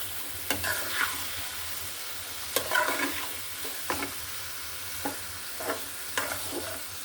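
Chicken with spices stirred and sautéed in a pan, a steady close sizzle broken by sharp scraping strokes of a utensil every second or so, no voices.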